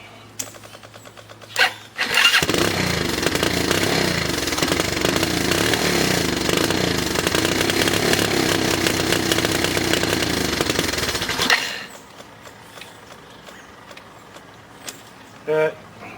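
A Kawasaki KLF 185 ATV engine, just fitted with a rebuilt starter, cranks and then runs at a steady raspy idle for about nine seconds before cutting off abruptly; a voice speaks briefly afterwards.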